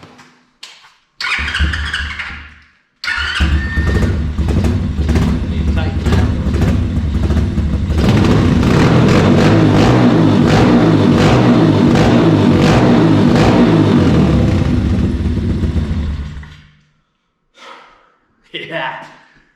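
A Pitster Pro pit bike engine runs loud and close, revving up with a dense, steady rumble for most of the stretch before cutting off, with a few short bursts of sound before and after.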